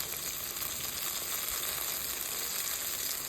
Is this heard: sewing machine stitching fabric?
no